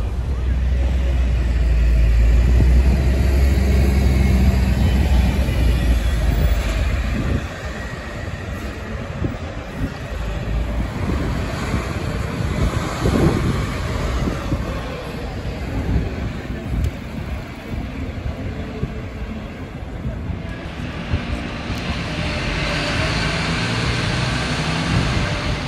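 A Mercedes Citaro GC2 articulated city bus, fleet number 5413, rumbles past loudly at the Opéra stop in Paris, its engine swelling and easing as it departs, heavy and close with steady traffic noise around it.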